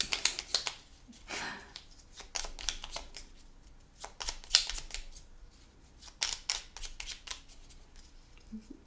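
Board game cards being shuffled by hand during a solo tabletop game of Harvest, a run of crisp riffling bursts and soft shuffling rustles, close and moderately loud with no talking.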